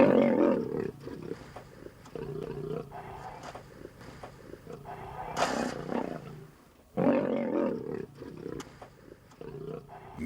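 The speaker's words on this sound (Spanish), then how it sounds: "los leones no sufrirán ningún daño y abandonarán la disputa al quedar extenuados después de varias horas de gruñidos y zarpazos" Asiatic lions in the Gir forest clash over territory at a fenced enclosure, with deep rumbling roars and harsh growls surging in repeated bouts, loud and close, with brief lulls between.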